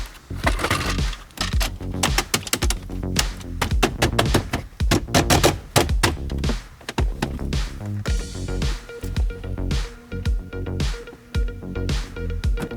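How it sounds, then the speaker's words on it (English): BMW interior trim pressed back into place after an iDrive screen swap, giving dense close plastic clicks, snaps and creaks in rapid bursts, loud with no talk. "Reinstall your trim."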